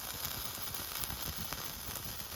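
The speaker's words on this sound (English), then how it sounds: "you can hear the water sizzling" Steady sizzling and light crackling as water sizzles in a log-cabin-style wood fire, a continuous hiss with small pops, close and moderately loud.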